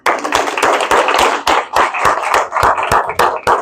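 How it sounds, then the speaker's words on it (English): A keynote audience at a speech competition claps loudly and continuously, a dense stream of sharp hand claps with distinct strong beats standing out, close and alone without talk. "we can clap a little louder"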